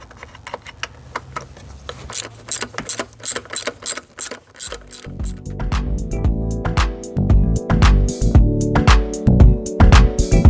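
A ratchet works T20 Torx lower intake bolts out of the block on a Mopar engine. It gives rapid bursts of close, sharp clicking that grow louder and busier, with clanks of metal in between.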